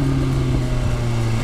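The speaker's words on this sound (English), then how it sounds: "Listen to that, that's the Pro Race exhaust burbling" A BMW S1000 RR sports-tourer motorcycle fitted with a Pro Race exhaust, burbling at a steady low idle with a deep, even rumble held close and loud throughout, no voices.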